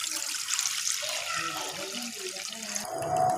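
Water drains and splashes steadily out of soaked rice being prepared for a yogurt chicken pulao, a continuous close pouring wash that swells slightly louder toward the end.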